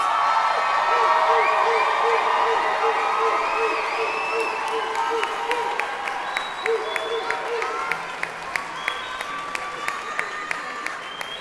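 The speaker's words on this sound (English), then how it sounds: "One more round of applause for everybody on stage tonight." An audience applauds and cheers at a Philadelphia high school music festival, with dense clapping and whoops that thin out into scattered, individual claps toward the end. Voices call out within the crowd.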